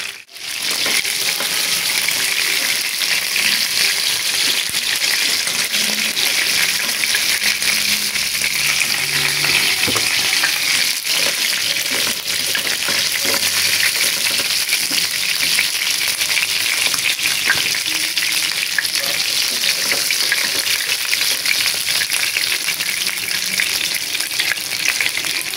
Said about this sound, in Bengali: বেরেস্তার তেলে যে ভাজা হচ্ছে